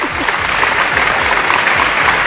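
Loud, dense applause from a studio audience at a dance competition show, continuous clapping filling the whole stretch with no talk over it.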